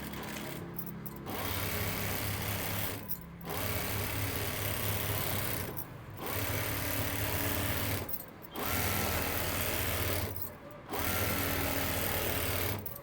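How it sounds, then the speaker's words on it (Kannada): Sewing machine stitching a double-stitch seam along a lehenga border, running in steady whirring bursts of about two seconds separated by short pauses, close and continuous with no talk. "ಸ್ವಲ್ಪ ಈ ಕಡೆ ಸ್ಟಿಚ್ ಮಾಡ್ಕೊಳ್ಳೋಣ."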